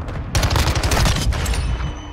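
Rapid automatic fire from an MX9 (AUG) rifle in a video game, a loud dense burst of shots lasting about a second amid battle noise, with no talk.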